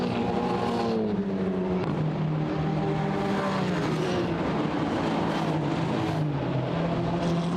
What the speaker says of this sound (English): 3 Mercedes virtually running together now as they come up towards the completion of the lap